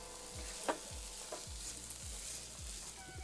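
Coarsely ground fresh pigeon pea seeds stirred into a cooking tomato masala for a winter curry, with a steady soft sizzle and a few scraping spoon strokes, no talk.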